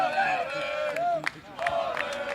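A high school baseball coach shouts encouragement to his batter mid-count, his voice raised and carrying over a murmuring crowd, with a few sharp calls standing out.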